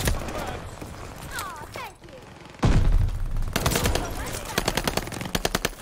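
Rapid automatic fire from the H4 Blixen in Call of Duty Vanguard multiplayer, loud bursts of shots with a louder stretch of gunfire toward the end, mixed with other battle sounds and a voice talking over it.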